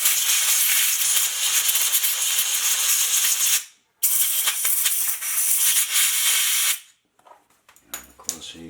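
Compressed air from a small compressor blasts through a Tritech T5 paint spray gun during cleanup of hardened 2K catalyzed paint, a loud steady hiss in two long bursts broken by a brief gap, then short sputtering puffs.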